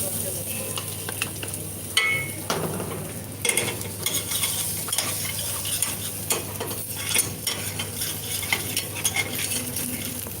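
Chopped garlic fries in hot oil in a pan, giving a steady close sizzle with irregular stirring scrapes and light utensil clicks throughout.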